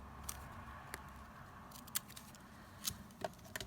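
Scissors snip the ends off paper flowers in a series of quiet, sharp, irregular cuts close by; no one speaks.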